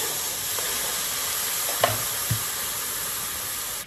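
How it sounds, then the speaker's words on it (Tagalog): Tomatoes for homemade pizza sauce sizzling in a pan, a steady close frying hiss with a few soft stirring clicks, alone without talk. "lalagay po natin yung ating kamatis para maluto ng konti"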